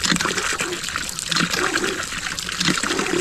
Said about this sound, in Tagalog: dumidiretso yung tubig